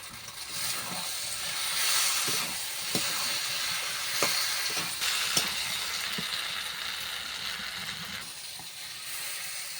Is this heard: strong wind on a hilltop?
no